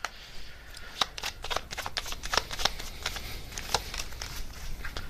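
Advice cards being shuffled for a card reading: a steady run of crisp riffling flutters and sharp card snaps, close and fairly loud, with no voices.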